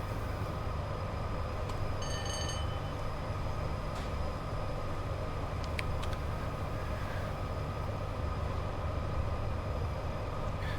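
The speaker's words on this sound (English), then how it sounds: "So train is surely passed." A British Rail Class 87 electric locomotive train rumbles past under overhead catenary in a steady, continuous roar of wheels and motors, with faint clicks and a brief high whine, and no voices.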